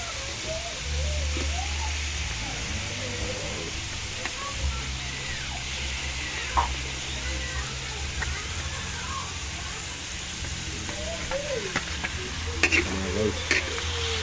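Chicken gizzards sizzle steadily in a hot pan as they are stirred, with scraping stirs and small bubbling pops over a low cooking hum, and a voice speaks now and then.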